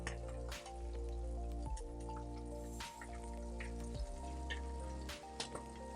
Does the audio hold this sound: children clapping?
no